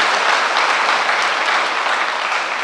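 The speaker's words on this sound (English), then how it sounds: "Let's give him a clap of appreciation" A church congregation gives steady, dense applause in appreciation, a loud, even roar of many hands clapping close by with no pauses.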